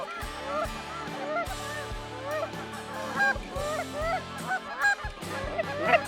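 A flock of flying geese honks loudly and continuously, many calls overlapping in a dense, ragged chorus that stays close throughout.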